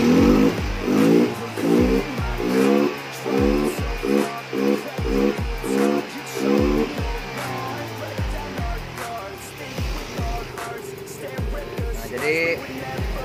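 A Yamaha Mio Soul GT scooter engine being tested after a fuel pump repair, throttled in rapid repeated blips, then idling unevenly with periodic sputters, close and loud.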